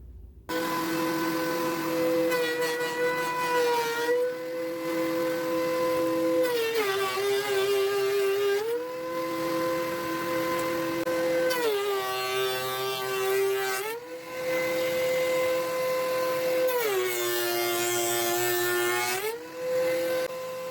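A wood planer feeding end grain timber, a loud whining machine tone that repeatedly rises into rough cutting passes as each board goes through and drops back to idle between passes, near and sustained, with no speech.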